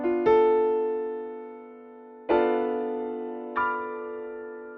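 A minor 7 flat 5 chord from a Chopin nocturne played on piano: three soft, close chord strikes that ring and slowly decay, the first sustained about two seconds before the next two follow.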